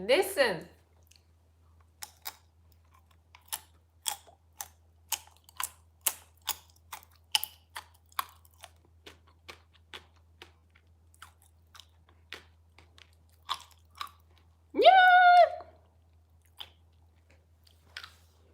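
Close, quiet chewing of popping candy chocolate with sharp little crackles and clicks scattered irregularly, a brief vocal sound near the start and another later.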